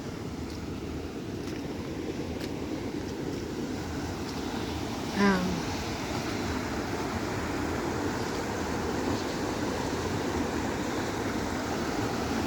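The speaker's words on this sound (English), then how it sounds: "We have a little waterfall going right now. You can probably hear it." Steady rushing water from a small waterfall on a rushing creek, a constant broadband wash with wind buffeting the microphone and a brief bird call midway.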